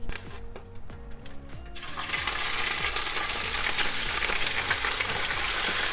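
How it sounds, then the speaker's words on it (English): Spinach hits hot oil in a pan for Liberian-style fried spinach, a loud sizzle that erupts after a couple of seconds of quieter clinks and then holds steady and bright. "I'll be adding in my spinach to the oil"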